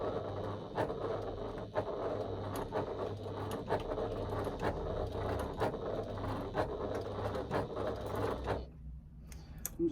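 A sewing machine stitching a strap for a key keeper runs steadily and close at a moderate level with a faint rhythmic ticking, then stops abruptly near the end.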